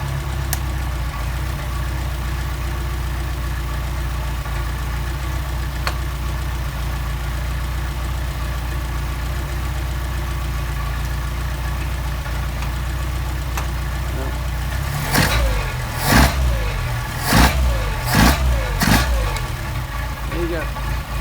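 A car engine with a Solex carburetor idles steadily, then its throttle is opened in several quick revving bursts near the end, close and loud.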